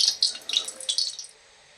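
A small ball of karanji dough dropped into moderately hot oil gives a short burst of bubbly crackling that quickly settles and fades away within about a second.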